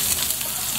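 Chopped onion, red or white, sizzling in a frying pan over browned garlic, a steady close crackle of hot oil filling the short moment with no talk.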